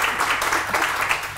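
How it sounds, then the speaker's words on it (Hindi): Studio audience applause on a Pakistani religious morning show, a steady dense patter of many hands clapping throughout, fairly loud and close with no break. "समझ आई तो हो जाए ताली"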